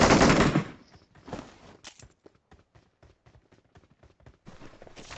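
Video game gunfire: a loud burst of rapid shots at the start, then a string of sharp, evenly spaced single reports, with another dense burst at the end, no speech.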